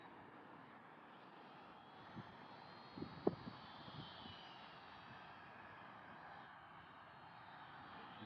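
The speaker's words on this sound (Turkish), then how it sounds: "Drone yerinde durmuyor." A steady buzzing engine drone hovers at a constant distance throughout, with a few soft knocks partway through and no voices.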